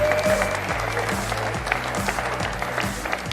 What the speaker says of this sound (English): One of the biggest round of applause needs to go to Tony Schwab and his team, Almere